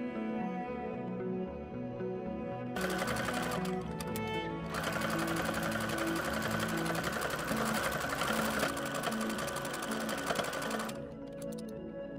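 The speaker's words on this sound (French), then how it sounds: "ici je pars à la machine à coudre pour fixer le bord de mes deux pièces" A sewing machine stitches the edges of bamboo and terry cloth pieces in a steady, fast mechanical whir that runs for several seconds, pausing briefly, then resuming loudly and close up without talk.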